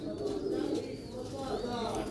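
Soft, low cooing of rooftop pigeons runs continuously under someone talking close by.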